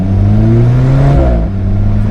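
A 2-seater Alfa Romeo 4C Spider sports car, idling in auto mode, revs up alone to about 4,000 RPM in a short, loud, close-up engine drone that climbs then settles.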